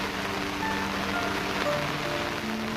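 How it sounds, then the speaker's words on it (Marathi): Steady rain and gusting wind sweep across a hilltop in the Kolhapur countryside, a dense, unbroken hiss that stays constant throughout with no break. "पाऊस पडत आहे एवढं वारा आहे"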